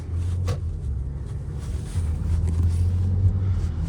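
A 2018 Audi A6 3.0 TFSI sedan engine purrs smoothly as it accelerates, a steady low rumble that swells slightly partway through, heard close with no voices.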